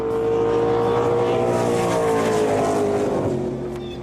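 Drag racing cars roar on the converted Gimli landing strip, a loud sustained engine howl with a slowly falling pitch that fades slightly toward the end, no voices.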